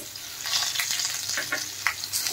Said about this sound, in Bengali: এখন এগুলো ভালো করে ভেজে নেব আমি।